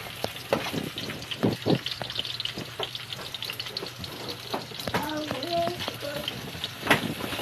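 Corned beef sizzles and crackles in a hot pan, with scraping stirs and a brief spoon clatter, under some background voices and a short whistling tone.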